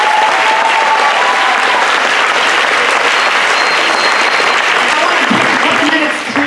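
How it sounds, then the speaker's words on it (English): A school concert audience at Harvey High School claps loudly and steadily for a spring choir performance. The applause holds for several seconds and then begins to fade, with a voice emerging at the end. "Can we give them another round of applause?"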